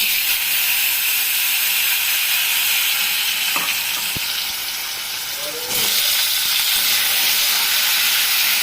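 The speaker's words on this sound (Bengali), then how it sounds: "এখন তেলের মধ্যে গোটা জিরা ফোড়নে দিব, দিয়ে এই যে আলুগুলোকে ভাজবো" Potatoes fry in hot oil with whole cumin seeds, giving a steady, close, dense sizzle with brief clinks of a utensil partway through.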